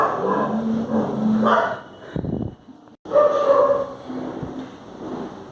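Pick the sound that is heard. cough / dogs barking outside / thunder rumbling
dogs barking outside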